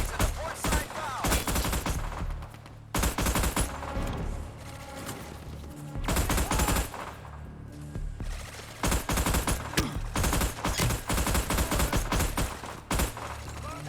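Gunfire from an inaccurate gun in the Battleship video game: repeated loud bursts of rapid shots with brief gaps between them, mixed with blasts and other game noise over about fourteen seconds.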